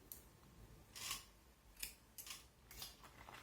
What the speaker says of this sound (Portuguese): Eu vou cortar o fio